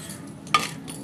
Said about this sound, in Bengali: যে বাসনগুলো ছিল ওগুলো আমি এখন মাজা ঘষা করে ধুয়ে নিব